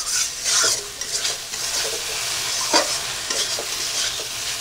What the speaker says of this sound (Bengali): এবার আমি নাড়িয়ে চাড়িয়ে নেব।